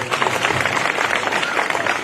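A political rally crowd gives a dense, steady round of applause to welcome a district party leader, loud and continuous with many hands clapping at once, a voice faintly audible underneath.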